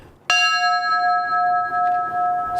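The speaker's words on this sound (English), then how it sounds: "this bell was struck to mark the time the first plane hit the North Tower" A single memorial bell is struck once at a September 11 commemoration, ringing out clearly and sustaining a long, steady tone that slowly fades.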